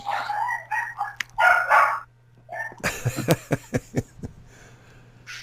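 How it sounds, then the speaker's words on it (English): Several dogs barking in quick succession, near and loud, with a rooster-like crowing and other animal calls before them and a steady low hum underneath. "These crazy dogs, okay."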